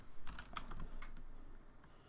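A handful of soft keystrokes on a computer keyboard click quietly and unevenly over a low background hum.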